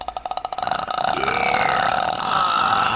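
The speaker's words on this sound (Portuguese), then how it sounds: "de novo arrotou" A long, loud, close burp with a rapid rattling pulse at the start that stretches into a drawn-out croak lasting about three seconds, heard alone.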